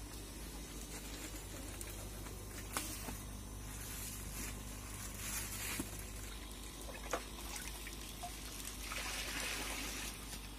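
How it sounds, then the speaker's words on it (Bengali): Water drawn from a hospital tank is poured into fish packets to hold their temperature while the fish are sanitized, giving a steady trickle and splash over a constant background hiss, with a few brief knocks. "এখন হসপিটাল ট্যাঙ্ক থেকে জল নিয়ে প্যাকেটের মধ্যে দেওয়া হবে টেম্পারেচারটা মেনটেন করার জন্য।"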